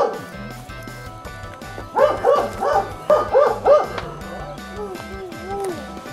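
A dog barks in a series of short yips and bow-wows, fairly close, over a steady rhythmic backing of music.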